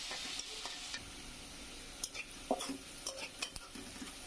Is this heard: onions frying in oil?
yes